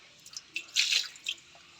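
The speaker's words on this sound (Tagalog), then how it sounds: "itapon ko na lang itong tubig niya" Water is poured out of a container at home in a short splashing burst with a few quiet drips before and after it.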